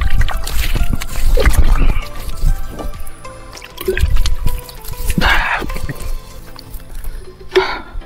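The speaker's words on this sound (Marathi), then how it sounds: "खाली पाणी दिसलं तर चेहरा धुवून घेतला" Stream water splashes and drips in irregular bursts as someone washes their face outdoors on a mountain trek, close and fairly loud, with no talking.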